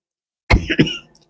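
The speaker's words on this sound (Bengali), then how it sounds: "কাশি এখনো ভালো হয়নি" A single short, close cough bursts out after a moment of silence, a rough double-pulsed hack that fades quickly.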